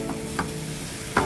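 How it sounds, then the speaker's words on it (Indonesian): A few soft scraping stirs of egg mixture in a hot pan over a low background hiss, with brief louder clinks near the start and end. "Jadi kita aduk sebentar ya,"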